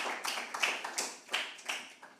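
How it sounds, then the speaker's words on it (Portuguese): An audience applauds Vera Lúcia Reigoso at a health talks panel on addiction, behaviour and mental health, with a short, fairly quiet burst of clapping with uneven taps that fades out over about two seconds. "eu peço desde já uma salva de palmas para a Vera Lúcia Reigoso"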